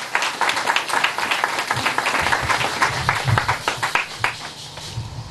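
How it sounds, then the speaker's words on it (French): A wedding congregation in a church applauds as the pastor steps forward, dense clapping sustained for several seconds before thinning out near the end. "Lorsque l'homme de Dieu s'avance, le pasteur Lamunga, on acclame très très fort le Seigneur"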